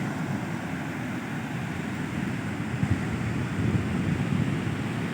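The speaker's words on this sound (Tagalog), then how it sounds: "Ang laki ng alon, guys, oh. Lakas ng alon." Big ocean waves break on a sandy beach in a steady, rumbling wash of surf, with wind buffeting the microphone throughout.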